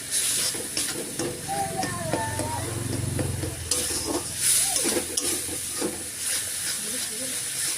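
Spice masala with a little sugar being sautéed in a pan for soybean curry, a loud steady sizzle and hiss with stirring scrapes, while a faint voice is heard in the background.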